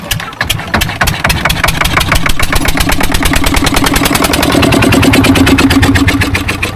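A fishing boat's engine starts up and settles into a loud, steady, rapid chugging as the boat pulls away, the pulses tightening and holding strong right up close throughout.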